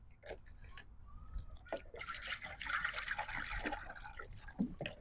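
Water trickles and splashes as it is poured into a dog's bowl outdoors, a brief light pour among soft background noise, with quiet human sounds around it.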